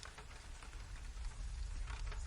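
Rain falling in a London garden square with a small fountain, a steady soft wash of drops pattering on surfaces throughout.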